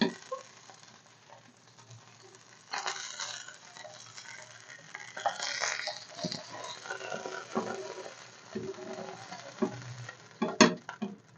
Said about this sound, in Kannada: ಈಗ ಫ್ರೈ ಆಯಿತು ನಾನೀಗ ತೆಗಿತೇನೆ